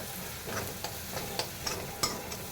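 A spoon scrapes and stirs turmeric through methi pitla in a pan over low heat. The taps and knocks come at irregular moments over a faint soft sizzle, all quiet and close, with no voices.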